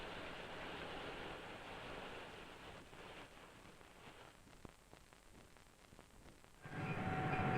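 Santa Fe diesel-electric locomotives in a railroad yard rumble with a steady broad roar, with scattered clanks in the middle and a louder surge of engine noise and a tonal hum near the end.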